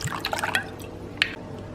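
Chinese cooking wine is poured into a small bowl of water and soy sauce, giving a brief splashy trickle followed by a few light drips.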